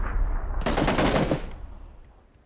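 A rapid burst of automatic gunfire in the battle royale video game PUBG, loud and close for under a second, followed by a decaying echo fading into quiet.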